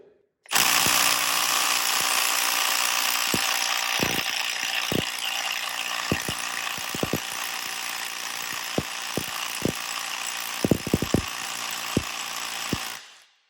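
A Milwaukee M18 3/8-inch cordless impact wrench hammers steadily on a nut for about twelve seconds. The loud, close, continuous rattle carries sharp clicks scattered through it and cuts off abruptly at the end.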